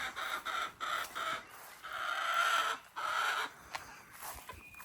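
Backyard hens emerging from their coop in the morning, close clucking and squawking calls repeating in short bursts, with a few quieter calls trailing off.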